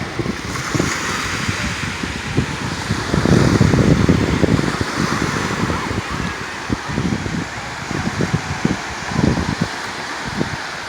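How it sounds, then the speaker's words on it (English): Gentle, smooth learner-sized surf breaking near the point at Dana Point Harbor, a continuous wash of water with rhythmic surges and wind rumble on the microphone, steady and fairly close with no one talking. "These are perfect learning waves for surfing."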